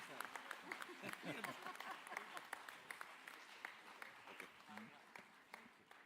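Audience applause at a live public event in Pune: scattered, uneven clapping that comes and goes, fairly faint and distant, with voices audible beneath it.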